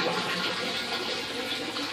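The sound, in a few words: pouring used centrifuged oil through a filter bag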